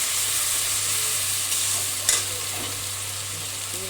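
Onion paste frying and being stirred in a pan for chicken curry, a constant bright sizzle with a low steady hum beneath and one sharp scrape midway, close and loud without speech.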